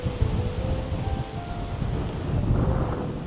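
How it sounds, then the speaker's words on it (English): Breezy wind gusts across a park in Colorado on a sunny day, a steady close rumble and hiss of wind buffeting the microphone with no talking. "Bit breezy, but not too bad."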